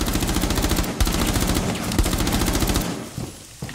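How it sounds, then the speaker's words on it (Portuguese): Rapid automatic gunfire from Rainbow Six Siege rattles in loud, dense bursts for most of the moment, then breaks into a few scattered shots near the end. "Você tá atirando o meu melhor amigo Drizzy aí."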